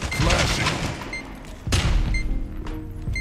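A flashbang grenade goes off in the video game Spectre Divide, a sharp loud bang with a booming tail amid ongoing gunfire and thumps, close and dense.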